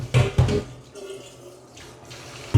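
A dish is washed under a running kitchen tap, the water rushing close by with a few knocks and clatters of the dish against the sink.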